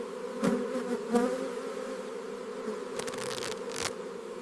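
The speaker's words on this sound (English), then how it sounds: "A gentle puff of smoke calms the bees before the hive is opened" Bees hum in a steady buzzing drone around an opened wooden hive, with a few brief louder passes of individual insects close by.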